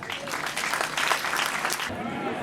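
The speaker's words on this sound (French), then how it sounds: "Chers élèves, acclamez-vous, applaudissez pour vous-même." A crowd of school pupils applauds at an end-of-year results ceremony, a dense wash of many hands clapping continuously, fairly loud and steady, tapering slightly at the end.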